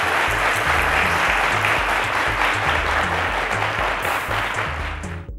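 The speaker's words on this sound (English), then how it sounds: "A round of applause, ladies and gentlemen." A studio audience on a televised quiz show applauds steadily and loudly for contestants, a dense wash of clapping that holds for about five seconds before tapering off at the end, with music playing underneath.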